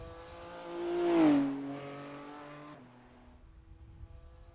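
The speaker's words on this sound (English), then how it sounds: "You can hear that car is having all sorts of problems right now." A strained BMW M4 GT3 race car engine in a racing video game at the Nürburgring whines and sputters, its pitch rising then sagging unevenly before dropping away to a rough, fading idle.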